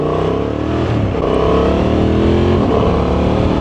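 A Honda Transalp motorcycle cruises under a loud, steady engine drone with shifting revs and rushing wind, heard close from the rider's position throughout.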